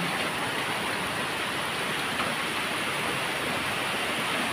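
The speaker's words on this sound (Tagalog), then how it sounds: "May foggy pa. Foggy raining." Steady rain falls on a foggy morning, a dense, even hiss of drops without breaks, with nothing else audible.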